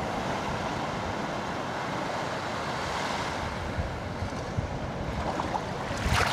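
Ocean waves washing in at Estanza Beach, a steady broad surf roar with wind buffeting the microphone, continuous and fairly loud, with a few faint knocks near the end.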